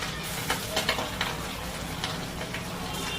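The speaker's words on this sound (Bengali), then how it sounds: "তেল ফাটছে, তেল ফাটছে।" Hot oil crackles and sizzles steadily in a wok as a cornflour-coated piece with garlic, ginger, pepper and vinegar fries, with sharp pops scattered through the continuous hiss.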